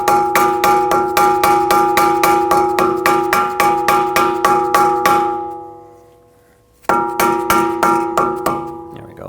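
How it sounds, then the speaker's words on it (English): A rubber mallet taps a wheel center cap onto the rear hub of a 2012-2019 Fiat 500 in a steady series of ringing, metallic knocks. After a brief pause, a second run of taps follows. "Tap it with a rubber mallet gently."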